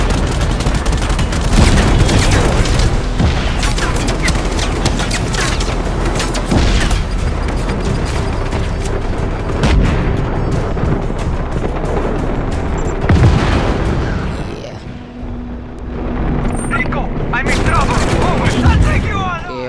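Tank cannon blasts and gunfire in the video game Just Cause 3, dense loud explosions and rapid shots piling up with booms throughout, with a voice talking over the action.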